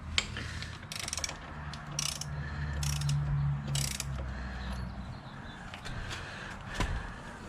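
A 20-year-old torque wrench ratchets while breaking a bolt loose on a WR250R motorcycle, giving a few bursts of quick mechanical clicking over a steady low workshop hum, close and moderately loud.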